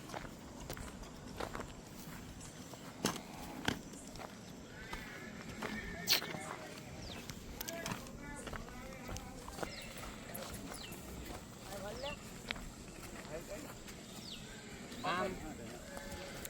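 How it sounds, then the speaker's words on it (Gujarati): Kathiawari horses on a farm with around seventy animals give faint hoof clip-clops and occasional whinnies amid a busy outdoor background, while people talk over them. "આપણી પાસે આ ઘોડા કેટલા છે ઘોડા સિત્તેર જેવા"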